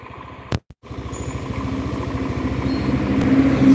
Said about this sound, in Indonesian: suara di area CVT dan mesin depan halus, cuma suara mesin tengahnya, ada suara otok-otok